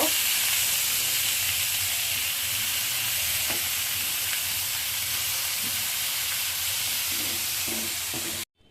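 Kolai greens hiss and sizzle loudly and steadily in a hot pan with garlic and dried chillies, with faint stirring underneath. The sound cuts off abruptly at the end, and no voices are heard.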